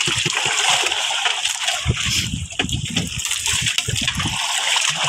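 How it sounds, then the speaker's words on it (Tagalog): Choppy sea water sloshes and splashes constantly around a fishing boat, loud and close, with rough bursts of wave noise and no clear voices. "Medyo maalon-alon lang."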